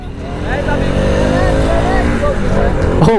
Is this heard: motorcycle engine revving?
yes